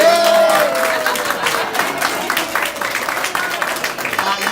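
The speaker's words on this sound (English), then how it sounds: "The biggest cheer of them all. The biggest applause of them all." A crowd at a Lovettsville mayoral campaign event claps and cheers, a broad wash of applause that starts strong and tapers slightly, with a voice over it at the start.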